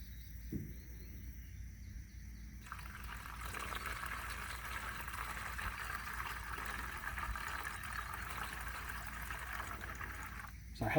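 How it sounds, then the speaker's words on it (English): Paint thinner pours steadily into a container while mixing a homemade wood stain, a continuous liquid hiss and gurgle lasting about eight seconds at close range. "There's our half liter of thinner."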